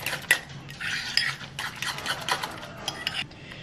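A utensil stirs a crushed mixture in a bowl before it goes into the microwave, with quick scraping and clinking strokes against the sides in an uneven rhythm, close and fairly loud, no voices.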